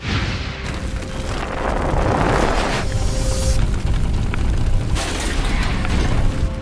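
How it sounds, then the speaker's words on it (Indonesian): A truck explodes in the film Joy Ride 2 after plunging into a ravine: a loud, rumbling explosion bursts out, followed by sustained roaring blasts and crackling debris, dramatic and close, with no speech. "Dan mobil truk yang di dalamnya Rusty Nail itu meluncur ke sebuah jurang dan meledak"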